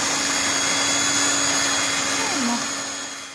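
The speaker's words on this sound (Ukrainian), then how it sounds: "І збиваю блендером." A loud electric blender whirs steadily at close range, beating soft butter with sugar, a constant motor drone that eases slightly toward the end.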